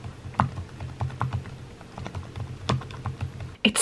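Typing on a silent-touch computer keyboard: a steady run of soft, muffled key taps at an uneven rhythm, close and alone, with a slightly louder clack near the end.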